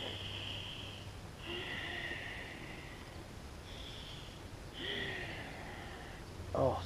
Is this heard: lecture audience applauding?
no